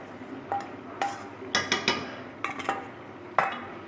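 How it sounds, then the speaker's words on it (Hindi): Metal spoon stirring spices into a pot of beef rogan josh, giving a few separate clinks and scrapes against the pot at an irregular rhythm, close and moderately loud, with no talking. "इसको मिक्स करते हैं अच्छी तरह से।"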